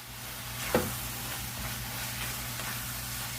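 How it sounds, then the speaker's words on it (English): Flour being stirred into browned sausage in a frying pan, a steady soft sizzle with one sharp scrape of the utensil early on, close and continuous with no talking. "I'm going to get that flour mixed in good."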